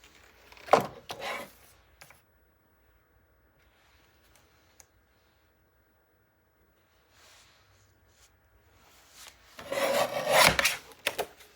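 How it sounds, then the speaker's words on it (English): Paper trimmer blade slicing through patterned scrapbook paper for a 9 x 9 mini album, two short rasping cuts, one near the start and a louder, longer one near the end, separated by a quiet stretch. "I gotta put this on the trimmer because something's not right."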